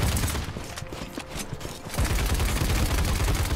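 Rapid gunfire from the video game Paladins, dense and loud bursts that build into sustained automatic fire in the second half, with no talk.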